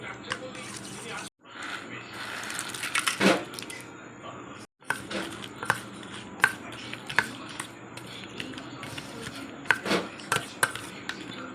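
Nimki chaat being mixed with sweet chutney in a bowl, giving a run of soft wet stirring and crunchy scraping sounds with small clinks, broken by two short pauses, under a speaking voice.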